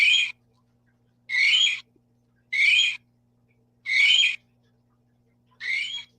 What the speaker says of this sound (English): This is a kiwi sound.